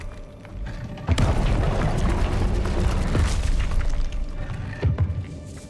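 A Confringo blasting spell goes off in Hogwarts Legacy with a sudden loud boom, then a rumbling blast that decays over a few seconds, with a second smaller thump near the end.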